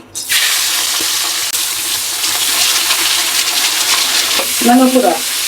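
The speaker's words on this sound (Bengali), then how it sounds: "তেল গরম হয়ে গেছে আমি মাছ দিয়ে দিলাম" Salted, freshly cut prawns drop into hot oil and set off a loud, steady sizzle that crackles on for several seconds, with a brief rattle near the end.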